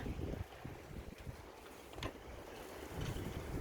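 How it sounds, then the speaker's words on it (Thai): Strong wind in an Icelandic snowstorm near freezing buffets the microphone, a fairly faint, continuous gusting rush with swells at the start, midway and end. "ลมแรงแล้วก็หนาวมากนะคะ"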